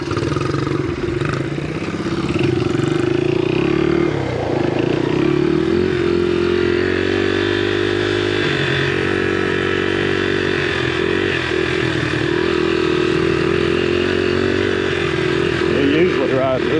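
Honda XR70 and XR80 dirt bikes on a trail, small engines droning loud and close without a break, pitch rising and falling with the throttle while riders talk over the noise.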